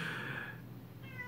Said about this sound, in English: I apologize if you hear my cat meowing outside the door